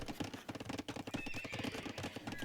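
A horse in the real-time strategy game Age of Empires II whinnies over a busy bed of hoof clip-clops and game clatter, moderately loud throughout.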